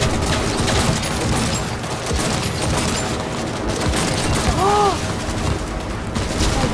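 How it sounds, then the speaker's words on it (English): Gunfire during driving in the video game Cyberpunk 2077, a dense, loud barrage of shots over a car engine and game noise, continuing throughout. "Oh my god! Shit, shooting and driving is hard!"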